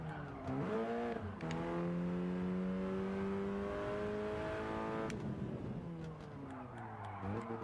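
A race car in Gran Turismo 7 sweeps through a tunnel, its engine a steady, resonant drone with rising pitch sweeps through gear changes and brief shifts, close and loud with no talking over it.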